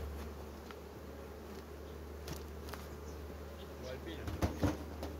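Honeybees buzz around a hive frame lifted out of a hive, a low steady hum beneath faint background noise, with a few closer, louder passes and some handling bumps near the end.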